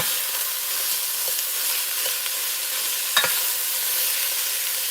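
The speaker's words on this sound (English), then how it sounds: "Put the hamburger meat and onions in there." Hamburger meat and onions fry in a pot for a stew, giving a steady close hiss of sizzling with a few faint stirring scrapes and one sharper knock.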